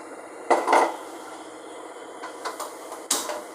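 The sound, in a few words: stirring marinated mushrooms and tomato masala in a pan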